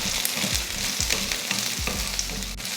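Coconut pieces sauté in a pan with onion, garlic and ginger, a steady close sizzle with a few spoon scrapes across the pan, and no voices.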